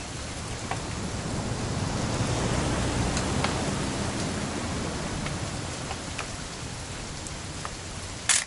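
Steady rain falls throughout a rainy weekend outdoors, a constant even hiss with scattered sharper drop ticks, close and moderately loud and unbroken by any voices.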